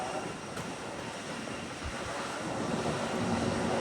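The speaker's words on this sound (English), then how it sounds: "Now taxiing for a north side takeoff via runway 8." A jet airliner taxiing toward runway 8 for takeoff at San Juan airport sends a continuous broadband engine roar, steady and fairly loud, with no talk.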